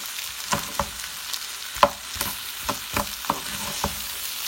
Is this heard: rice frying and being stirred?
yes